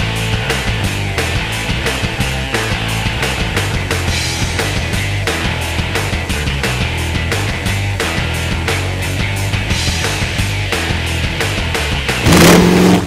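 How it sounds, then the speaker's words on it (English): A Boss Hoss motorcycle powered by a 6-liter Chevrolet LS2 V8, the Corvette engine, on Dubai roads, rumbles loudly and steadily throughout with a rhythmic pulsing beat, rising in a brief burst near the end. "that's a 6-liter LS2 engine, the engine you're finding in the Corvette as well"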